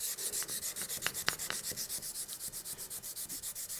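Hand sanding a Damascus steel chef's knife with 400 grit paper on a rubber backing, a rapid steady back-and-forth scrubbing rhythm, close and fairly quiet, with no talking.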